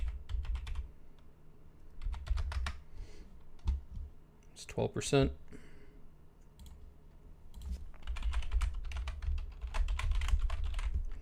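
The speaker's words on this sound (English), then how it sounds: "Sorry, if you hear me click-clacking, I'm typing to our Discord right now" Rapid clicking keystrokes on a computer keyboard come in quick close bursts, with a person talking briefly in the middle and faint background sound throughout.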